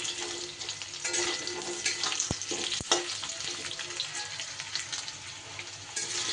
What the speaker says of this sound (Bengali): আলুগুলো কয়েক সেকেন্ড নেড়ে নেবার পর এবার দিয়ে দিচ্ছি আমি কুমড়োটাকেও কয়েক সেকেন্ড নাড়াচাড়া করে নেব